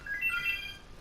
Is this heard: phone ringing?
yes